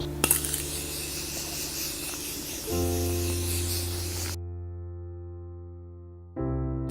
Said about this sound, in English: I'm gonna go in with Morphe's Continuous Setting Spray